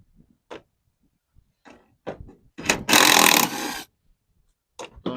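Ratchet turning an 8mm socket on a 1/4-inch extension to remove a Ford F150 tail light: sparse, close clicks and scrapes, then a short burst of rapid ratcheting, followed by a few more isolated knocks.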